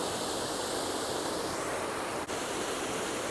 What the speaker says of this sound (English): This is a huge pool and there's like so much running water.